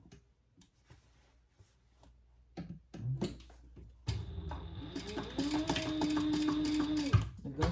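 A sewing machine top stitching a hobo shoulder bag starts after a few scattered clicks and handling noises, then runs in a steady close whir of rapid stitches for several seconds before stopping.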